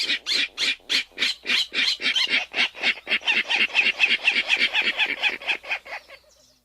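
A recorded Virginia rail gives its grunting series: about two dozen evenly spaced, harsh pulses, loud and close, running for several seconds before trailing off at the end.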